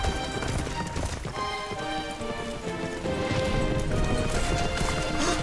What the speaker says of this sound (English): that's an evil horse!